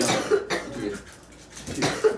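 A couple of harsh, dry coughs close by in a dry room, with a throaty rasp between them.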